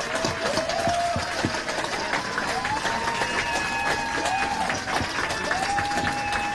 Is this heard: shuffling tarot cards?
no